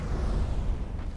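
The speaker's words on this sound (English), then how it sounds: "Nice explosion shot." A weapon-fired explosion in the video game Skyrim rolls out as a deep, sustained rumbling boom, loud and heavy throughout with no voices over it.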